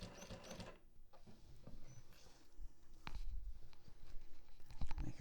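A sewing machine stitching a zipper pocket with a window facing, running in short, quiet rattling bursts of rapid needle ticks with small pauses between them.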